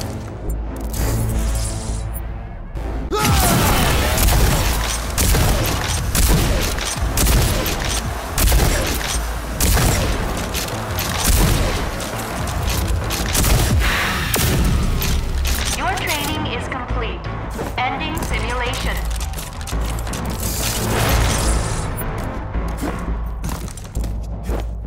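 The combat shotgun's overdrive in Rage 2, a dense barrage of heavy, rapid blasts and booms that runs almost nonstop, loud and close, with a spoken voice over parts of it.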